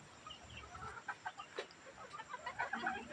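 Chickens cluck at feeding time on a farm, a busy overlapping flock of short, irregular clucks and squawks at close range, with no talking.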